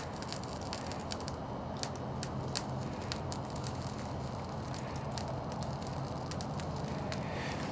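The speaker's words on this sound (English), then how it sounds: "Kind of has like a little snap, crackle, pop to it." A small survival campfire relit with a ferro rod crackles and pops steadily, with scattered sharp snaps over a soft, continuous hiss, close by and with no talking.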